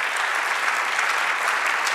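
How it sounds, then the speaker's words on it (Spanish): A church congregation claps for the Lord during a service, a loud, dense, unbroken burst of applause filling the short moment. "Dale otro aplauso al Señor"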